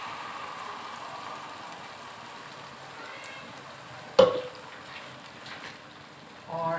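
Tomato puree goes into a pan of frying onions and meets a steady soft sizzle, with a sharp clatter midway and a later burst of stirring.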